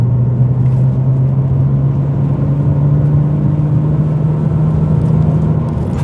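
A BMW 330Ci Clubsport's inline engine drones steadily from inside the cabin while driving on the road, a smooth low hum with slowly rising pitch under constant road rumble.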